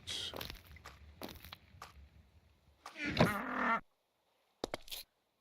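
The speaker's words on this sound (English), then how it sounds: "it'd be nice if your footsteps didn't sound like the mob spawning sound" Blocky player footsteps in Minecraft with the Aged modpack: a handful of soft scattered steps, then a louder scuffing burst and a final short pair of taps, fairly close and with no talk over them.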